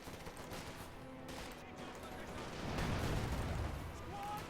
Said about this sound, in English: And Infantry Geschütz will be firing.